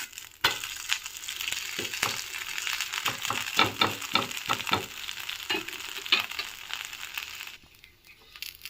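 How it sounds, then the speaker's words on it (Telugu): Rava dosa frying on a hot pan gives a steady close sizzle with scattered crackles and small pops, and it quiets briefly near the end. "దోశ బాగా రెండు మూడు నిమిషాలు కాలాలి"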